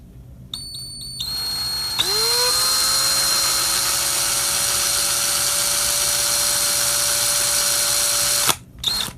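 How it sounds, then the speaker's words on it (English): A power drill starts up with a brief stutter, then whines steadily and loudly for several seconds drilling through a headlamp flashlight held in a vise, before winding down and stopping. "I'm going to carefully attempt to drill this through."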